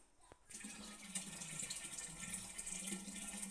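Water pours and splashes steadily while a water pot is being washed, a continuous close rush of running water that starts abruptly and keeps going to the end.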